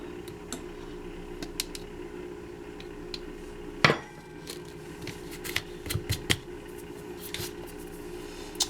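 Scooping chocolate protein powder from a container: soft scattered clicks and scrapes with one sharper knock, then a small cluster of taps, faint and close over a low steady hum.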